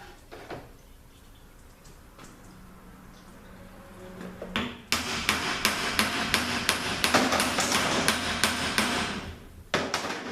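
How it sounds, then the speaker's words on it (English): Rapid, steady metallic tapping of a brass hammer on a metal part during a Honda engine teardown, many evenly spaced strikes at close range after a few quieter knocks. "I just use my brass hammer, so I don't really damage this too much"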